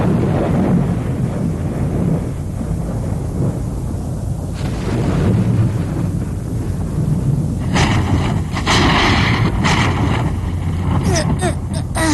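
Heavy rain pours with deep rumbling thunder in an animated fairy-tale episode, a dense continuous roar that swells with sharper crackling bursts toward the end.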